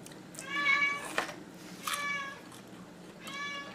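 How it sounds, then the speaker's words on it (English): A pet cat meows several times indoors, drawn-out cries at moderate distance with short pauses between them, over a faint room hum. "it makes my cat freak out, which is why she was meowing a lot"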